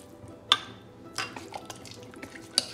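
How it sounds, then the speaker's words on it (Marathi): Water being mixed into flour batter for sweet Konkan-style milk ghavan: quiet, sparse liquid drips and a few soft clinks of stirring at scattered moments, with no talk. "आता मी पाणी मिक्स करते ह्याच्यात लागेल तसं."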